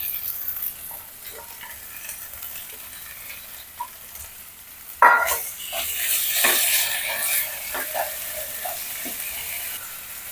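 Chhana tossed into a hot pan with chilli powder, other spice powders and salt, giving a light sizzle and scraping stir strokes that swell after a sharp clatter midway, close and fairly soft throughout.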